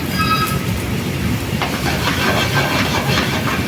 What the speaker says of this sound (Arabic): درنا الكاسرونه تسخن، درنا فيها الزيت، كنزيد عليها البصله